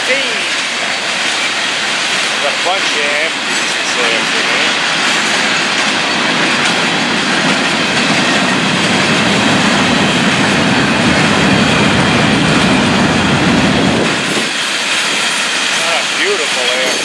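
An FEC freight train rolls past on the railway, producing a loud, sustained rumble and rattle of wagons close by that fades abruptly near the end, with a few faint tonal squeals over it.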